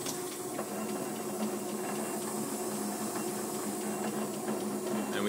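A Potter Rayfield motor winder runs steadily under foot-switch control, giving a continuous low hum with a faint whirring hiss at constant level and no talk over it.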